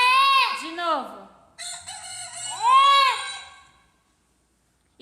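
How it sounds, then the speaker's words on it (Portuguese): A recorded rooster crows twice with long rising-falling calls, with hen clucks between them, loud and close, and then the sound cuts to silence. "Galinha."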